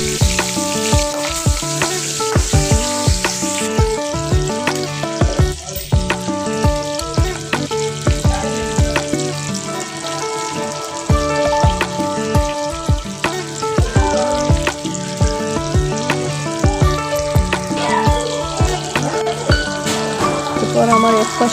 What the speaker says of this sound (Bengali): আসলে মাছ ভাজাটা একটু টাফ, তেল ছিটে উঠে যায়